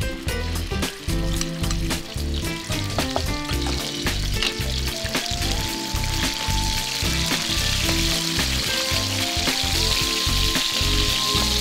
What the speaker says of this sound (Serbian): Pržit ćemo je u voku u vrućem sezamovom ulju.